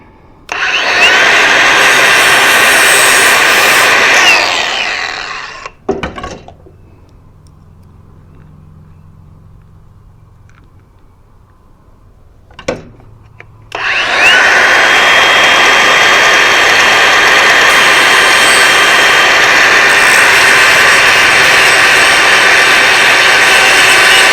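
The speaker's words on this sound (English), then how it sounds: "Just take your angle grinder, and then you'll just grind it down just a little bit." An angle grinder grinds down table saw motor brushes, loud close whining bursts at the start and end with a quieter lull between, broken by a couple of short sharp contacts.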